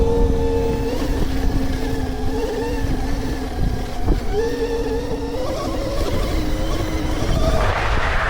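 A KOOZ Mototech 72V 8000W electric motorcycle climbs a hill, its motor whining loudly and continuously with the pitch rising and falling as it surges, close up, ending in a brief rush of scuffing noise.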